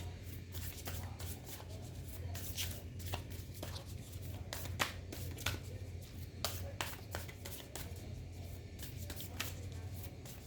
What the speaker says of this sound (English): Let me pull out one card for you from the Work Your Light Oracle